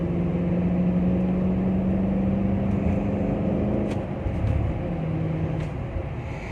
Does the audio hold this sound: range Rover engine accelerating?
yes